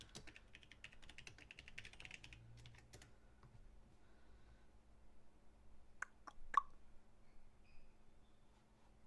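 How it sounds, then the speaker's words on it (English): Someone types on a computer keyboard in quick, light clicks at first, then a pause and a few sharper isolated key taps, faint and close in a quiet room. "I'm just typing in"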